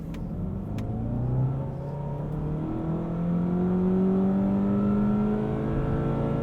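A 2020 Volkswagen Jetta GLI with a manual gearbox revs hard in first gear, its engine note climbing smoothly in pitch with a dip partway through, heard from inside the cabin with no talking.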